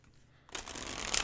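A Blood Moon Tarot deck is shuffled by hand: after a half-second of near silence, a quick riffling rush of cards starts and builds, ending in a sharper flutter.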